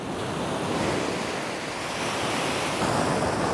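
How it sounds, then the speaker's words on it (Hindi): Ocean surf rolling onto the beach at a Mexican resort on the Pacific coast, a steady full wash of breaking waves with some wind rumble, close and loud throughout with no talking. "देखें कैसी खूबसूरत मौजें आ रही हैं"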